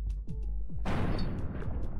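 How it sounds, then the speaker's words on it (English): A shotgun blast in Buckshot Roulette, one sudden loud bang after a few quiet clicks and handling sounds, with a heavy rumbling tail that fills the rest of the moment. "And now he's gonna shoot me."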